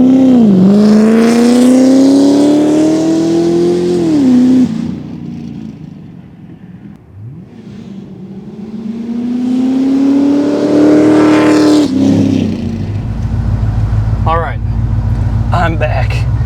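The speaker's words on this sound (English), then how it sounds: "get some awesome flyby noises of this vehicle in action" A 2012 Corvette C6 Grand Sport 4LT Lingenfelter, exhaust in loud mode, roars past twice, rising and falling in pitch with each flyby, then fading into the distance.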